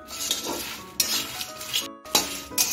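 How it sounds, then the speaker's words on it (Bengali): Kabab masala whole spices and bay leaf dry-fry in a pan over medium gas, heard as a series of close metallic scrapes and clinks of a spatula stirring, with a faint sizzle between the strokes and a brief silent gap. "এখন আমি 3 থেকে 4 মিনিট এগুলো গ্যাসটা মিডিয়ামে রেখে ভেজে নেব।"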